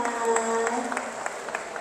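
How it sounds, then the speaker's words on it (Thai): Guests at a wedding at a country cottage venue give a brief burst of applause. It is scattered, mid-level clapping with a faint murmur and a steady tone underneath. "ขอเสียงปรบมือให้กับทุกท่านอีกหนึ่งครั้งนะคะ"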